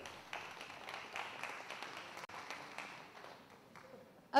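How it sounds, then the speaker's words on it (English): Audience applause greeting celebrities at a cruise launch event, a fairly quiet, steady patter of many hands clapping that holds for a few seconds and ends abruptly with a short louder sound. "A big round of applause for all our celebrities here today."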